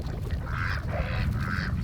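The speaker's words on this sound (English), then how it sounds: "Chickens want some?" Farm ducks and chickens honk and quack at feeding time, several nasal calls repeating close by over a rough, rumbling background.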